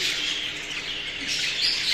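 An aged budgerigar, about thirteen years old, gives a continuous bright twittering chatter, close and steady, with no voices over it.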